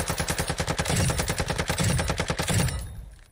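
Automatic rifle firing in the video game Warzone 2, a rapid, even burst of about thirty loud shots in quick succession that cuts off near the end.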